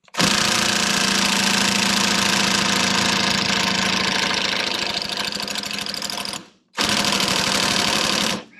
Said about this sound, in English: let's see if it loosened it any and see if the Snap-on can get it off